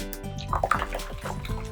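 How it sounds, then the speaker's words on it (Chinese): Clear slime mixed from six bottles of fake water, squelching and popping wetly in close, short bursts of squishy liquid sounds with a faint voice underneath. "听着这个水声"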